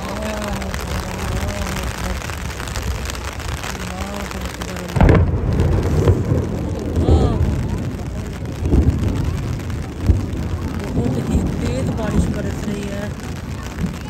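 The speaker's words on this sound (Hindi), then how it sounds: "हरम पाक में बहुत तेज बारिश" Heavy rain pours steadily at the Prophet's Mosque in Medina, joined by a sudden loud rumbling burst of thunder midway, with voices speaking faintly under the downpour.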